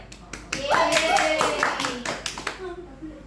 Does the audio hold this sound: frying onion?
no